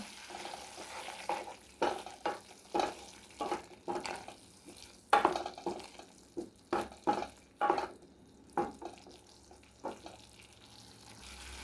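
Pineapple pieces for payasam stirred in a pan over a low flame, a soft repeated rhythm of scraping strokes and gentle sizzling, close and fairly quiet with no voices.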